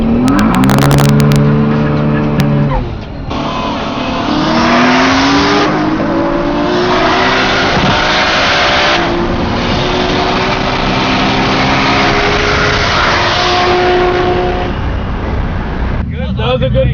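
Toyota Supra drag car on a street run at a TX2K event: a loud engine revving and pulling hard through the gears, rising in pitch with each shift, with people talking over it at times.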